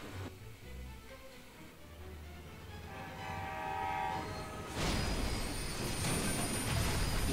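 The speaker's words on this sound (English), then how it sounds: "the passing of the freight train is signaled by the closure of the level crossing barriers" Freight train passing a level crossing during an emergency-response scenario, a long sustained horn blast over rumbling wagons, growing louder and fuller as the train draws close, no talk.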